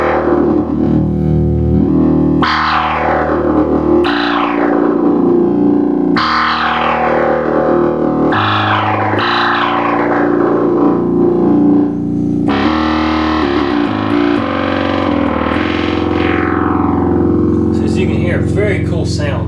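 A Minimoog synthesizer plays a heavy, distorted sweeping patch, loud sustained tones whose filter sweeps sink downward again and again, notes changing every couple of seconds.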